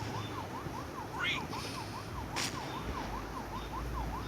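A police car siren from the video game Rope Hero wails in a steady, rapid rising-and-falling pattern throughout, loud and continuous over a low rumble of game background noise.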